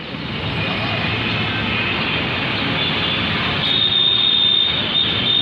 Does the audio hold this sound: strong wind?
no